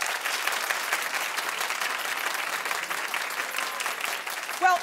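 Studio audience applause fills the whole stretch, a steady dense wash of many hands clapping at even loudness, with a brief voice at the very end.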